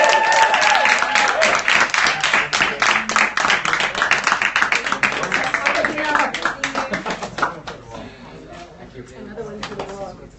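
Audience at a press conference for a band clapping and cheering, a dense burst of applause that gradually thins and fades, with voices talking through it.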